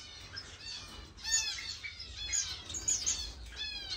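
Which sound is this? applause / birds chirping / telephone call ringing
birds chirping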